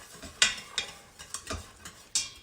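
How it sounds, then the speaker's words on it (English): Cornstarch slurry being stirred into boiling sauce in an Instant Pot for maple mustard chicken: a few sharp scrapes and clinks of a utensil against the metal pot, spaced irregularly over low bubbling, with no talking. "You can see that it's boiling. I'm going to put this slurry in here."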